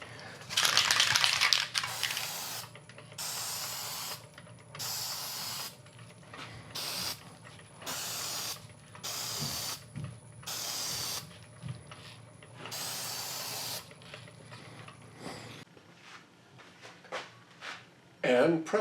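Spray gun bursts apply varnish to a turned mulberry wood bowl, around ten hissing sprays of one to two seconds each with short gaps between them, close and steady, with faint clicks and handling noises at the start and end.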